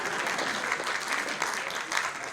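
Audience applauding at a Hindi kavi sammelan poetry reading, a dense, steady wash of many hands clapping continuously throughout, fairly loud and close.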